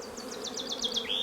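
Honeybees hum steadily inside an open hive where nurse bees tend young brood, with a rapid run of high chirping notes rising over the close, even drone.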